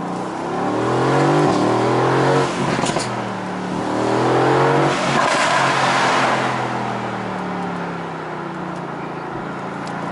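A 2018 Mercedes-AMG GT C engine revs hard while accelerating, its rising and falling exhaust note loud and close, swelling through several gear pulls with no talking over it.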